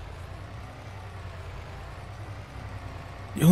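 A truck engine idles with a low, steady rumble in the farming game Landwirtschafts-Simulator 22, on the NF Marsch map, holding even and unchanging before a short louder swell at the very end.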